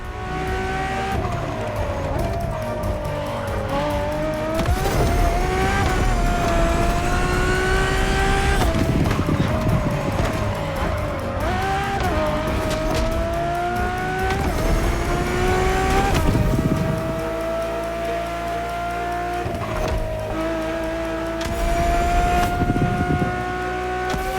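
Ferrari road-legal supercar in The Crew Motorfest, an engine driving hard with rising and falling revs, gear changes and tire squeal, loud and continuous throughout.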